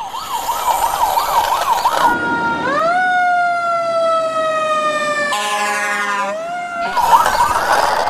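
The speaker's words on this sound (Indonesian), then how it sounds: "Wow, ini ada mobil pemadam kebakaran." A toy fire truck's electronic siren sounds loud and close, switching between a fast warbling wail and long rising and falling tones before the warble returns.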